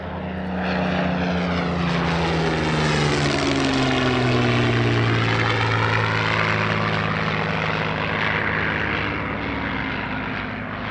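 A Spitfire propeller fighter flies past at the Shuttleworth vintage airshow, its piston engine droning loudly, rising as it nears and sweeping through a clear pitch drop as it passes overhead.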